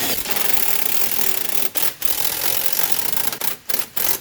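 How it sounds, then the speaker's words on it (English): A low-power impact gun with a 14mm flex socket runs bolts home on the front wheel hub of a 2006 Subaru Outback, in loud rattling bursts broken by a few short pauses. "get your favorite 14mm flex socket and your nice low impact gun and drive these bolts home"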